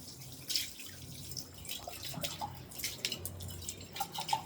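Water runs from a public drinking fountain into a metal cup, a faint trickle broken by small splashes and drips at irregular moments, fairly close but quiet.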